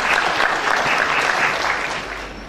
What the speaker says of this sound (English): I think we can escort him up here with a round of applause